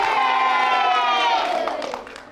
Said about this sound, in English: so a big cheer for the school